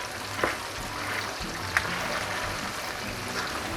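Faint, steady sizzling of beef ribs frying in hot oil, a continuous crackling hiss with a few small pops.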